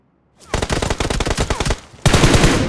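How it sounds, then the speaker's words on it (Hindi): Automatic gunfire in the BGMI battle royale game, rapid bursts of shots close and loud for about a second and a half, a short pause, then another dense, sustained volley. "अरे भाई इधर गोलियां चल रही इग्लू वाली बिल्डिंग में"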